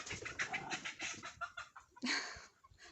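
Chicks and hens cluck and cheep busily at a distance, a steady flurry of small calls with faint background noise and no speech.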